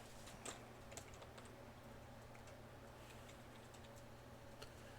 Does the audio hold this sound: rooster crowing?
no